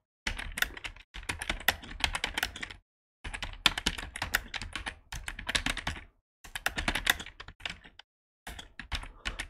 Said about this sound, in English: And I could be here just typing.